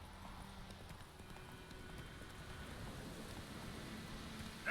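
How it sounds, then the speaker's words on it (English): Horse hooves clip-clop at a steady galloping rhythm while riding in the Witcher 3 video game, fairly faint under a soft rain-like wash, with a brief louder burst at the very end. "Ride, Seabiscuit, ride"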